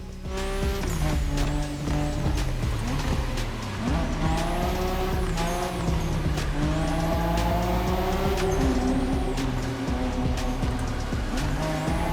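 A car drifts in The Crew Motorfest racing game, its engine revving and shifting in rising and falling sweeps while tires squeal in long, wavering screeches, loud and continuous with no talking.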